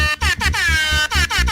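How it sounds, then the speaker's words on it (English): An air horn sound effect blares in repeated loud, brassy blasts separated by brief gaps, close and alone without talk. "More air horn sounds."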